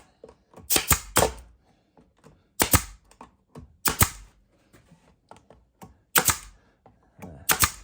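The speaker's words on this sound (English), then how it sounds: "Staple gun must need cleaning. It's having a few misses." A 1/4 inch crown staple gun fires into the wooden sides of a five-frame beehive nuc box kit, giving sharp close snaps in short irregular clusters separated by brief quiet gaps.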